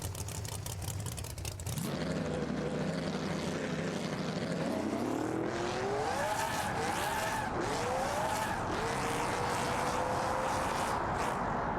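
A tuned car in BeamNG Drive launches hard, its engine revving high and rising in pitch through the gears while the tires spin and screech, continuous and loud with no voices.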